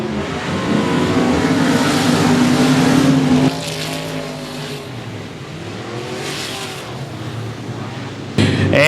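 Race cars charging down the back stretch of an oval speedway in the opening lap, engines roaring loud and steady with a sustained drone that dips slightly midway, then surges again near the end.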